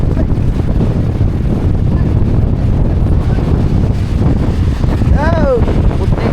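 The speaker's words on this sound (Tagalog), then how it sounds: "Lakas ng hangin mga bay." Strong wind buffets the microphone in a constant rough rush, with a brief whistling tone near the end.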